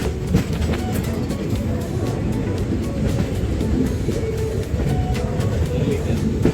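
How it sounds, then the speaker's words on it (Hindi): Train at Jhansi railway station platform, a loud continuous rumble with faint rhythmic clicking of wheels on track, heard close by with some voices in the background. "और ये पूरा झांसी प्लेटफॉर्म. ये झांसी के स्टेशन."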